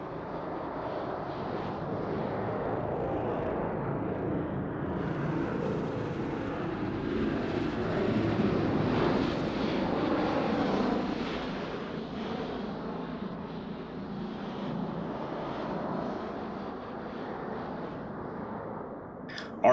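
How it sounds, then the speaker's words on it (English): Four-ship aircraft formation in a Roblox airshow performing a 360-degree rolling maneuver at 400 mph, a steady broad jet roar that swells in the middle and then eases back. "All 4 aircraft flying as one in this graceful 360-degree rolling maneuver."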